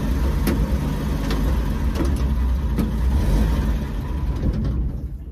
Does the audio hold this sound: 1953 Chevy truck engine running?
yes